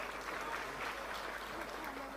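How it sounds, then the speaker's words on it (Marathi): A waiting audience at the MHADA housing lottery draw claps on, giving a continuous, dense patter of many hands that holds steady at moderate volume in a large hall. "जरा ऊर्जेने टाळ्या वाजल्या तर अजून मजा येईल. जरा जोरात."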